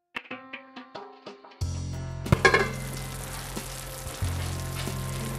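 Cherry tomatoes and seafood-stuffed conchiglioni pasta cooking under a lid in a pan: a few soft, ringing taps first, then a steady close sizzle that starts abruptly and keeps going.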